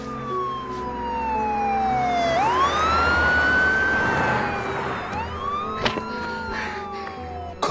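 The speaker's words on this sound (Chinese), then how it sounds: "叫救护车，快！" Ambulance siren wailing loudly and up close, its pitch sweeping up and down over a low rumble of road traffic.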